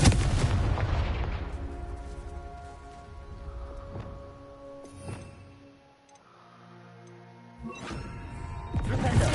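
Confringo spell blasts in the video game Hogwarts Legacy land as sharp, booming explosive hits, a heavy opening burst and several thuds spread across the stretch, with a fainter ringing tail between them.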